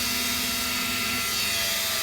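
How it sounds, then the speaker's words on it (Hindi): A loud, steady whooshing whir of a computer power supply fan spinning at full speed, constant and close, with no pauses. "आप इसका फैन का शोर सुन सकते हैं।"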